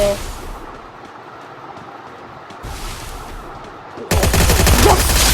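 Gunfire and a bomb blast from the mobile shooting game Free Fire, a busy stretch of rapid shots that ends in a sudden loud, sustained burst over the last second.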